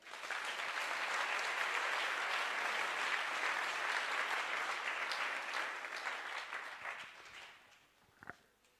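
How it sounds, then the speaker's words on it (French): A church congregation applauding, dense sustained clapping from many hands that fills the room, then thins and fades out with a last few scattered claps. "On acclame le Seigneur."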